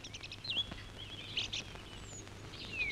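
Sparrows chirp outdoors. Scattered short, faint tweets and sharp calls come over a low background hum, with no talk.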